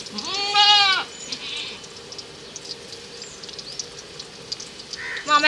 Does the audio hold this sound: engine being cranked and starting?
no